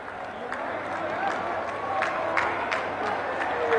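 An audience at an outdoor university foundation-stone ceremony in Aligarh claps steadily to welcome the Prime Minister, a wide, even wash of applause with scattered louder claps throughout.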